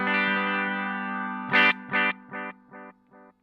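Strymon Timeline delay pedal on its old tape setting: a sustained guitar tone cuts off and repeats as five rhythmic echoes, each quieter and duller than the last as the treble fades.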